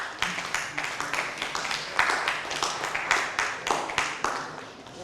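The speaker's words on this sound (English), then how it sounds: "Clap for us now." An audience at a Nigerian official briefing gives a short round of scattered hand claps, individual claps clearly spaced and fairly close, a modest crowd rather than thunderous applause.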